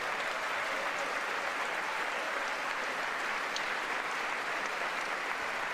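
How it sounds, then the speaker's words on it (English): Sustained applause from a large audience in the U.S. Congress chamber, a dense, even wash of clapping that holds steady for the whole stretch, moderately distant. "Yeah, literal bipartisan clapping."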